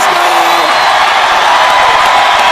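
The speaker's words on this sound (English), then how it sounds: "Listen to this crowd." A large crowd at a Division 1 high school football final roars continuously and loudly, a dense wash of cheering and shouting with no breaks.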